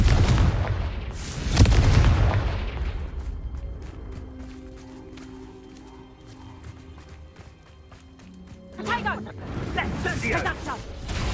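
In the Hogwarts Legacy video game, the Confringo explosive spell goes off during a fight with centaurs, with sharp blasts and rumbling booms near the start and end, along with galloping hooves and shouted voices.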